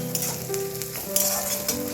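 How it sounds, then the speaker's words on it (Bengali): Onions frying in a pan with stirring, a loud close sizzle broken by quick scraping strokes of a spatula over less than two seconds. "পেঁয়াজটা একটুখানি ভাজা ভাজা হবে"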